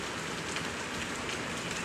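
Heavy rain pours steadily over a flooded area, a dense, continuous hiss of drops striking water and ground, close and unbroken throughout.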